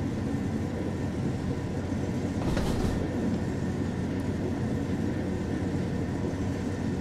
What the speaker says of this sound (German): Dieses Weichenknarren. Auch sehr, sehr schön wiedergegeben.